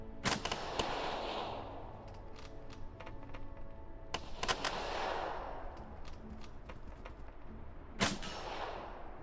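Gunfire in the WWII tactical game Second Front comes as sharp, loud cracks spaced a few seconds apart, each trailing off into a rolling echo, with a few lighter clicks and shots scattered between.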